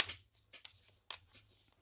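Oracle cards featuring animals and plants being shuffled by hand, a few soft riffling and slapping bursts separated by brief pauses, close and quiet with no talk.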